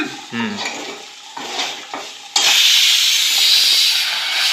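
Aloo posto, potatoes with poppy seed, cooking in a pot, heard as scraping and stirring clinks from a utensil followed by a sudden loud steady hiss of sizzling and steam that runs to the end.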